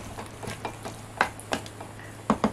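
Pork colombo with ginger starts cooking in a pot: a light sizzle with scattered stirring taps and clinks, soft and close, with no talking.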